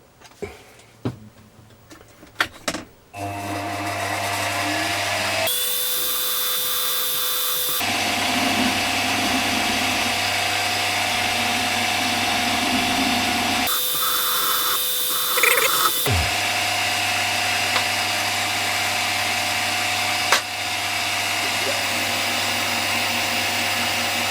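A small power drill with a 0.6 drill bit whirs in steady bursts, starting and stopping a few times, close by, with faint clicks and handling noises between runs.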